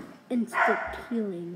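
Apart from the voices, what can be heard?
dog barking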